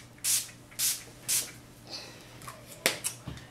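Three quick, evenly spaced hissing sprays of Urban Decay All Nighter setting spray from a pump bottle onto a face, followed by softer rustling and a few light clicks.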